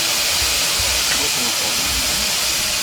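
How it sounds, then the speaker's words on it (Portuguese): Steam locomotive blower on the Ilhéus railway drawing air from the firebox up to the chimney, a loud, steady rushing hiss that runs unbroken throughout. "o ventilador que está puxando o ar da fornalha para cá, para a chaminé"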